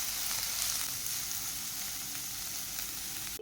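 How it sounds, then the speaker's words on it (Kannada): Thinly sliced onions fry in a pan until they brown, giving a steady, close, loud sizzle with faint crackles and no voices. "ಅದನ್ನೀಗ ಚೆನ್ನಾಗಿ ಫ್ರೈ ಆಗೋ ತನಕ, ಅಂದರೆ ಅದರ ಕಲರ್ ಚೇಂಜ್ ಆಗಿ ಒಂದು ಕಂದು ಬಣ್ಣ ಬರುವ ತನಕ ಸ್ವಲ್ಪ ಚೆನ್ನಾಗಿ ಫ್ರೈ ಮಾಡ್ಕೊಳ್ಳೋಣ"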